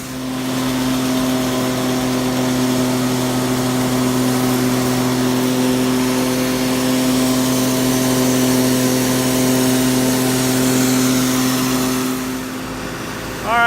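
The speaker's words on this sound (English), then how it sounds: "The hammer mill's running at 540 RPM like it's supposed to be. So the mill is grinding up the corn" A tractor-driven hammer mill running steadily at 540 RPM while grinding corn into feed, a loud, constant mechanical drone with a strong hum that holds for about twelve seconds before cutting off abruptly.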